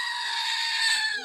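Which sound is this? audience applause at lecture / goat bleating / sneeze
goat bleating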